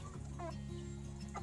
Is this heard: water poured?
no